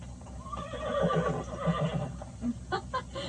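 A horse lets out a loud whinny, rising and shaking, followed by a few short snorting sounds nearby.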